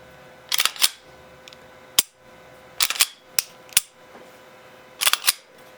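Sharp mechanical clicks from a Glock pistol fitted with a Vogel competition trigger being pulled and reset, crisp close snaps in pairs and singles with short pauses between.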